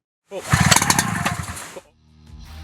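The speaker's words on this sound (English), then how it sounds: "Listen carefully for the first ignition as we hear here. It might sound as subtle as this," WICK 280 portable pump engine catching its first ignition: a loud, rough burst of combustion firing that runs for about a second and a half before dying, followed by a quieter low mechanical rumble.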